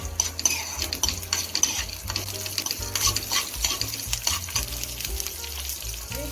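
Dried red chillies and cumin fry in hot oil with a continuous close crackling sizzle, dotted with metal utensil clinks and stirring, and no talk.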